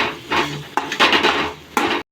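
A utensil scrapes and clatters in a pan while pasta sauce with tomato ketchup, carrot and capsicum is stirred, giving several loud, close metallic strokes in quick bursts before cutting off abruptly.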